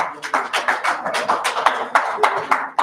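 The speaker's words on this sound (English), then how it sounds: "Can we give DP a round of applause?" Audience clapping at a press conference in Abuja, a loose burst of individual claps at moderate distance with no voices over it.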